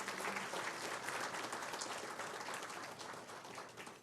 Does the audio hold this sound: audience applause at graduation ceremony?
yes